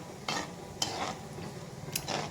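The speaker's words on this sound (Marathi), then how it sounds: "हे बघा याच्यात आपल्याला हे काजू बदाम याचे काप आहे ना, हे आपल्याला तळून घ्यायचे" Cashew and almond slices fry gently in oil over low gas, giving a soft steady sizzle with a few clinks and scrapes of a stirring spoon against the pan.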